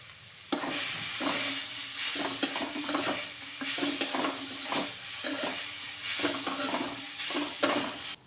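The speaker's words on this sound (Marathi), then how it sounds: "एकदम सुटसुटीत होईपर्यंत चटणी परतून घेतली." Chili chutney is stir-fried in a pan with a constant sizzle and repeated scraping strokes of a spatula, close and fairly loud.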